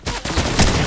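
A brief, close burst of rapid gunfire in the video game Fortnite, lasting under a second.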